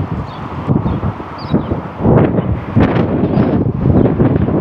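Strong gusty wind buffeting the microphone, a continuous roaring rumble that swells and eases, with faint rustling in the background.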